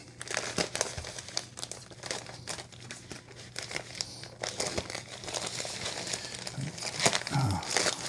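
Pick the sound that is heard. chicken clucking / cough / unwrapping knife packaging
unwrapping knife packaging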